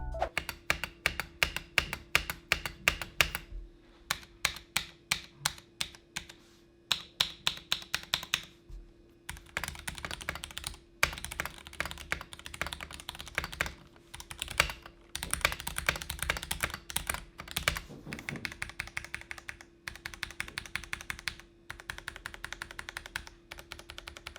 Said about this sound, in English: I am using this keyboard with Cherry MX red switches